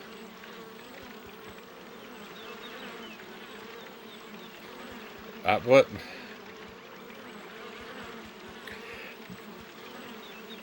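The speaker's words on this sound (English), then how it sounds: "My goodness, what a lot of buzzing bees." Bees buzz steadily in the Piglet's Big Game video game, a constant low insect drone throughout, with a brief spoken word midway.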